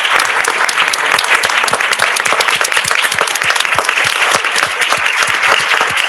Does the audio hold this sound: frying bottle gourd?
no